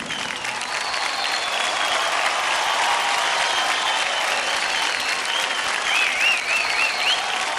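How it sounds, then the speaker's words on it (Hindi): Loud, dense applause from a studio audience after a couple's dance performance on a televised dance competition, sustained and even throughout with a few faint whistles near the end. "जोरदार तालियां हो जाए अमर और स्वराली के लिए"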